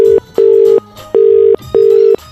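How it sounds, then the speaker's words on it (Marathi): Telephone disconnect tone after a call is cut: four loud, evenly spaced steady beeps with short silent gaps between them, heard close and clean on the line. "अहो तुम्ही फोन का कट करताय सतत?"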